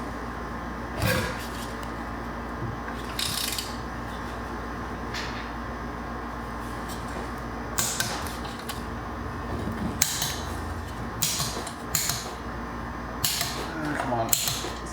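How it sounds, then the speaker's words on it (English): Torque wrench clicking while bolts are tightened on a John Deere 1032 snowblower: sharp mechanical clicks come in irregular clusters over a constant background hum, close by, with no voices. "So let's go through and click these off."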